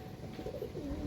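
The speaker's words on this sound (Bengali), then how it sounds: "খুব হাই ব্লাডের পায়রা" Pigeon cooing, a series of soft low rolling coos repeating across a second, close by over a faint steady background hum.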